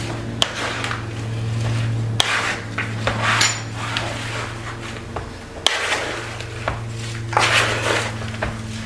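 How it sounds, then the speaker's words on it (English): A spoon stirs and mixes onions and garlic in a pot, scraping and rubbing against the metal with several sharp clinks, accompanied by a steady low hum underneath, with no one speaking. "We're going to give this a stir and just mix everything together."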